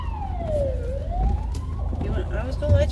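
An ambulance siren wails in a falling then rising sweep, heard from a car amid road rumble, moderately loud with some distance, while people chat over it.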